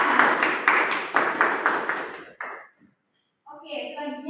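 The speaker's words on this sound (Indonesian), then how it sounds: "Tepuk tangan." A group of children claps in a steady rhythm of beats in unison in a classroom, then stops, and a voice begins speaking.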